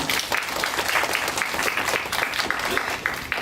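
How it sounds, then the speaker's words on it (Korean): A lecture audience applauds a guest lecturer at a university landscape architecture talk, a steady, fairly close wash of many hands clapping that holds evenly throughout with no talk over it. "박수 부탁드릴게요"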